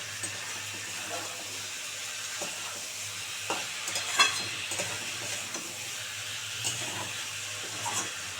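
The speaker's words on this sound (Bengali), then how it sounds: "পেঁয়াজ কলিগুলো একটু ভালো করে ভাজা ভাজা করে" Young onion stalks sizzle softly in a pan while being stirred, with occasional scraping and clinks of the utensil against the pan. The sound is close, and there is a faint background hiss.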